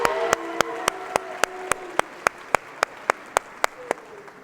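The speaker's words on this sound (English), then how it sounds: "Let's give all our sophomore public speakers one more huge round of applause for all of their hard work." An audience at a state convention gives a round of applause for sophomore public speakers: dense clapping with a few loud, evenly spaced sharp claps standing out over the crowd's steady patter.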